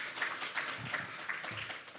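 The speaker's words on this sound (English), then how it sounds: "Let's have one last big round of applause for everybody" A small conference audience gives presenters a round of applause, with scattered, fairly faint clapping over a room murmur.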